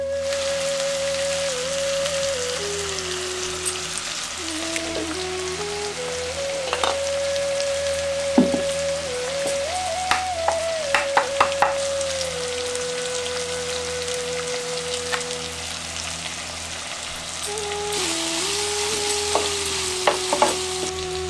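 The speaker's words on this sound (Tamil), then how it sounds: "இப்ப உப்பு சேர்த்து வெங்காயத்தை நல்லா வதங்க விட்டுட்டு" Onions frying with salt in a pan, a dense, steady crackling sizzle throughout, punctuated by the clicks and scrapes of stirring, with a faint tonal hum drifting underneath and no talking.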